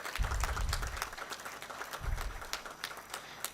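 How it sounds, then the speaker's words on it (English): Audience applause at a business school convocation ceremony, a sustained crowd of clapping with a few sharper individual claps standing out near the front and low thumps from the hall. "a big round of applause to Dr."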